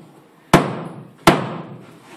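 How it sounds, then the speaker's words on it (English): Two sharp, solid hammer blows on a wooden wall stud, a little under a second apart, each ringing briefly before fading. "You can hit it with a hammer."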